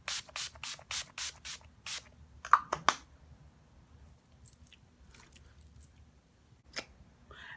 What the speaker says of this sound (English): So now I'm going to finish off with more setting spray.